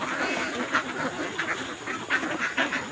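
Ducks on a rice farm quack steadily in a loose, overlapping chorus while being tossed grains of palay, several birds calling at once close by with a few louder bursts.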